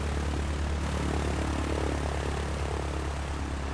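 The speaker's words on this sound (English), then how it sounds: "I'm just making sure you can be heard over the airplane's engine." A loud, steady propeller aircraft engine drones without a break in Microsoft Flight Simulator 2020, a dense, even roar filling the whole stretch with no voices.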